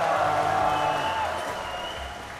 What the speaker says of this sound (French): on peut saluer Fogg, l'applaudir aussi